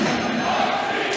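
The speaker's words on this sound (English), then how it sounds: "We hear chants of Hop Shrees break out from the large hometown crowd in attendance." Large hometown crowd at a Swiss ball hockey championship semifinal chanting together in a dense, steady roar, continuous and fairly loud through the brief moment.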